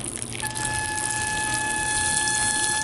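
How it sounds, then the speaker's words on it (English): Garden hose running continuously, filling cactus pots with water for a drench, a steady rushing hiss with a faint whine throughout. "you just fill up the pots as much as possible with water"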